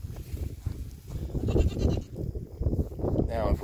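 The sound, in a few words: sheep and lambs bleating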